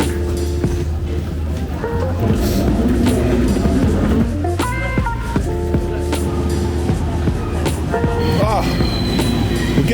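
An Elizabeth line train rumbles along the rails with squealing wheels and occasional clacks, a continuous interior ride with some speech mixed in.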